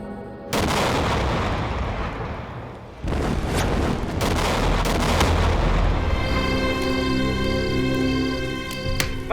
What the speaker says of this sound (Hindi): महिला पुलिस थाने में हुआ बम ब्लास्ट।